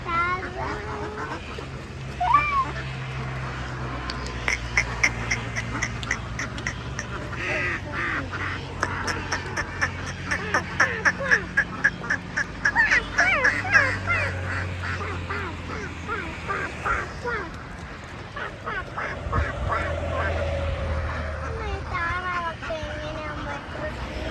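Ducks quack repeatedly in raspy bursts over steady background noise in the Kuttanad backwaters, with people talking nearby throughout.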